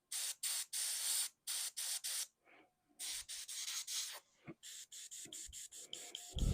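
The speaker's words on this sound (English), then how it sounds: "Spray the hands. Gotta spray the hands." An airbrush sprays paint onto an Ultramarines Warhammer miniature in short repeated hissing bursts, close and fairly quiet, with brief pauses between pulls of the trigger.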